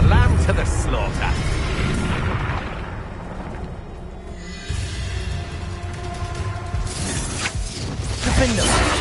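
Spell blasts in Hogwarts Legacy, with Bombarda, Depulso and Confringo cast in a fight: booming, crackling bursts that rise and fall across the stretch while a voice keeps talking over them.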